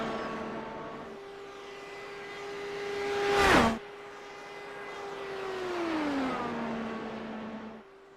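An IndyCar race car on a qualifying lap roars past close by, its engine pitch sliding down in a sharp Doppler sweep, then a second engine note drops away as the car heads off.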